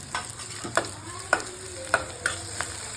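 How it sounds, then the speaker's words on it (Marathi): Chopped onion and coconut fry in oil, a soft steady sizzle broken by about five scraping stirs of a spatula at a roughly regular pace, close by and moderately quiet, with no voices. "कांद्याबरोबर थोडंसं खोबरं पण टाकूया. तेलात फ्राय करून घेऊया."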